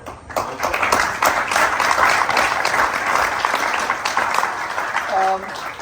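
An audience at a 65th anniversary storytelling event claps in steady applause, dense and fairly loud, fading slightly toward the end.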